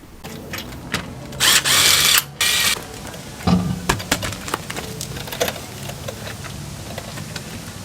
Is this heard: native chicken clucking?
no